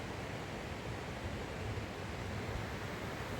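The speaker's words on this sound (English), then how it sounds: "You might be able to hear the river in the background" River flowing near a tent at Ash Camp on the Pacific Crest Trail, a steady broadband rush of water heard alone and unchanging.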